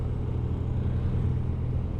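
A BMW R 12 motorcycle cruising on an open road, heard as a steady low engine rumble with constant wind noise, loud and unbroken.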